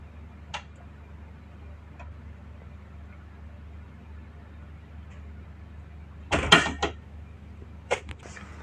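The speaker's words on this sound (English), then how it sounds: "Now we'll see the door movement." A door swings shut under a double-acting door closer, with faint ticks of movement first, then a loud burst of clunks and knocks near the end as it settles.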